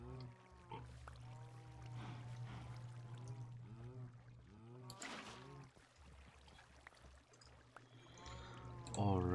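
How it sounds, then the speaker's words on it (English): Water pours in a video game, a steady wash that swells briefly midway, heard beneath constant game music and a low hum, with people talking over it. "let's pour some water in"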